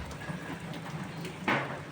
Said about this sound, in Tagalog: Tuloy-tuloy na ulan.